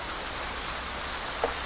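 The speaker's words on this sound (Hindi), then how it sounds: "तगड़ा बारिश हो रहा है दोस्तों" Heavy rain pours down in a steady, dense hiss of drops hitting surfaces, loud and constant throughout with no voices.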